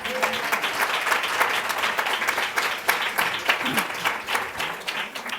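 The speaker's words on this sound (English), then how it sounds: "how about a round of applause for Tina?" Audience at a Women's History Month gathering in Washington, D.C. applauds for Tina: dense, steady clapping from a large crowd, fairly loud throughout.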